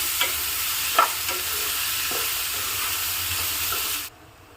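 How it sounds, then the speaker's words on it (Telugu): Washed ridge gourd pieces are stirred in a hot pan with a constant nearby sizzle and a few spatula knocks, before the sound cuts off abruptly near the end. "దీంట్లో వేసేసుకోవాలండి ఒకసారి మొత్తం కలుపుకోవాలి"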